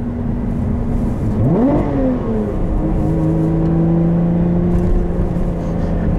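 A 2021 Lotus Evora GT engine heard from inside the car, humming steadily, then blipping sharply upward during heel-toe downshifts before settling into a lower drone, loud and continuous with no talk.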